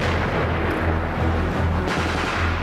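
Sustained, loud heavy weapon fire during a military urban-terrain training exercise, a dense continuous roar with rapid low thumps and no clear gaps between shots.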